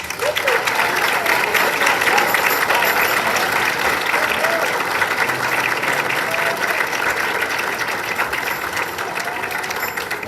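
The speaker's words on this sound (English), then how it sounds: "we can just give them a quick round of applause" Audience applause for scholarship students at a middle school band concert, loud sustained clapping from a crowd that stays even from start to finish.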